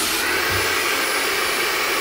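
A Dyson Supersonic hair dryer blows a steady, loud stream of air, a constant whooshing hiss with a motor whine, running without pause.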